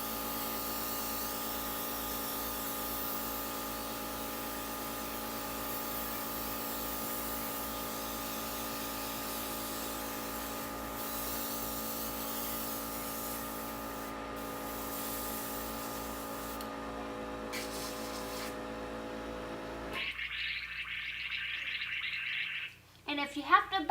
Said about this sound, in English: So what I'm going to do is just hold it 6 inches away from my face and just start spraying in circular